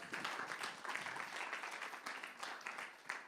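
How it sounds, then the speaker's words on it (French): A church congregation claps together for God during a French-language sermon, a dense, steady wash of many hands filling the room from start to finish. "Est-ce qu'on peut applaudir notre Dieu?"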